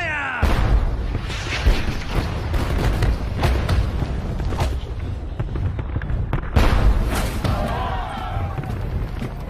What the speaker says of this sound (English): As the Old Guard march toward the ridge, they get a taste of British artillery.